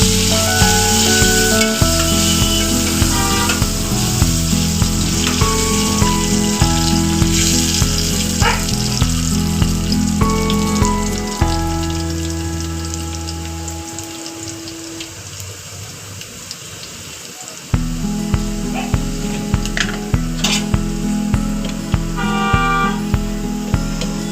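Chopped onion sizzles and fries steadily in hot tempering oil in a pan as green dal is prepared, a continuous close crackle with stirring scrapes throughout, briefly quieter midway before resuming loudly.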